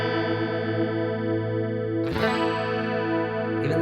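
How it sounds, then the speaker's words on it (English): An electric guitar chord rings through a chorus effect set to a slow rate and high depth, sustaining with a gentle shimmer before a fresh strum about halfway through. "It gives you the chorus and it's not too wobbly."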